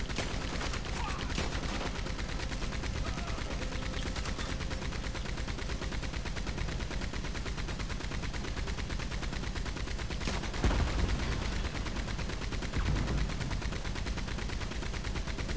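Red Dead Redemption gunfire rattles faintly underneath a dense, steady game soundscape, with a couple of slightly stronger shots standing out near the end.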